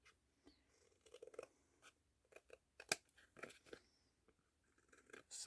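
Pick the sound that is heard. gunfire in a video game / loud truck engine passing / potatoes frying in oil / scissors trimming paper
scissors trimming paper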